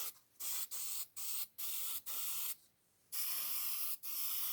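Spray paint hisses from a can onto a model in a string of short bursts, about eight close, steady sprays separated by brief pauses, with one longer gap and a final longer spray.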